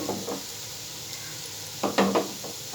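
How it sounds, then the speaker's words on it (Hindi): Chicken shami kababs fry in a pan over a medium flame, a soft steady sizzle with a couple of brief clinks and scrapes of a utensil near the end. "अब मैं इनको फ्राई कर रहा हूँ। मीडियम फ्लेम पे ये फ्राई होंगी।"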